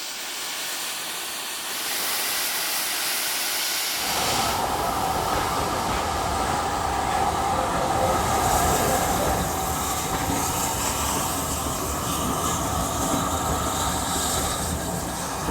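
A Britannia class steam locomotive eases out of the engine shed at North Blythe during a 1960s rail tour, a loud continuous rumble and hiss that rises after a few seconds and holds steadily, with no voices.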